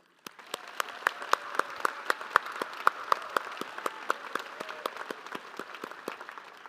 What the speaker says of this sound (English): Let's give a big round of applause for the Spring 2025 graduates